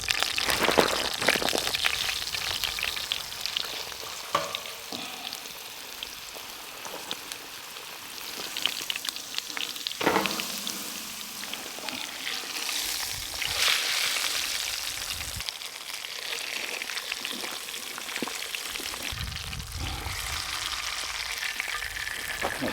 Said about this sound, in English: the right amount of sizzle means we're ready to sear that fish